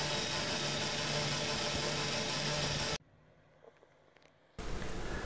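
A Suzuki Grand Vitara engine running during a traction control test, heard as a loud, steady mechanical roar that cuts out abruptly for about a second and a half and then resumes.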